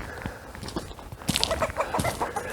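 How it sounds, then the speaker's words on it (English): Chickens clucking and murmuring on a homestead, several close birds giving short repeated clucks and a few rising calls over faint background rustle, no talk. "The chickens are out and about."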